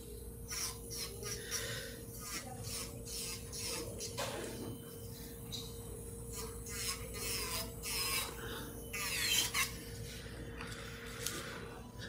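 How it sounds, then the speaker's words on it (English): A hand file rasps across acrylic nails in short, repeated strokes, close and fairly quiet over a low steady hum, with no talking. "I hand filed this, so I'm just gonna go through and just freshen that up."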